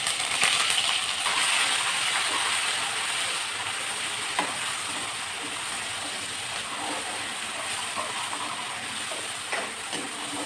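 Green chillies and sliced onions fry in oil for a fish curry, giving a dense, continuous sizzle that stays loud and even, with a few faint clinks of a utensil.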